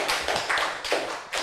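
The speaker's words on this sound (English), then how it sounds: "Yeah, you may applaud." A short burst of applause from a conference talk audience, several clusters of claps rising and falling over about a second and a half, fairly close.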